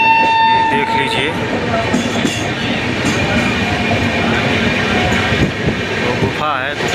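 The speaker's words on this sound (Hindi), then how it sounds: "वो गुफा है, गुफा में जाएगी ट्रेन।" Passenger train rolling through mountains toward a tunnel: loud continuous rumble and clatter of wheels on rail, with a steady horn-like tone early, under faint talking.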